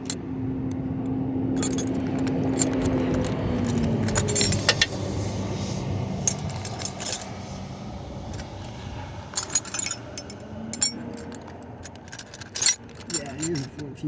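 Metal wrenches clink and jangle as someone rummages through them in search of a 14 mm while working on a car that won't start, with rattling that builds in bursts and faint voices in the background.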